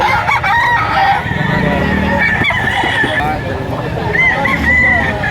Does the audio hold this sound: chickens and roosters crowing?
yes